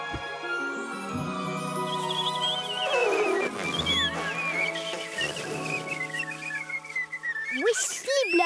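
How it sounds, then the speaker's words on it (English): Whistling in a children's cartoon, long sliding tonal whistles that rise and fall over a soft bed of music, ending in a quick upward swoop, with a voice briefly heard. "What's that noise? It's whistling."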